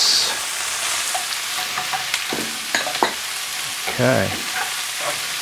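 Mushrooms tossed into a hot wok for egg foo yung sizzle and fry while a utensil stirs and scrapes them in bursts, with a brief spoken word at the start.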